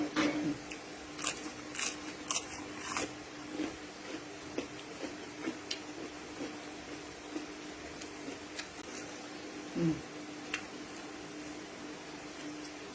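Crunchy napa cabbage and rice noodles being chewed close to the mic, with a steady run of crisp bites and wet mastication clicks over a faint constant hum.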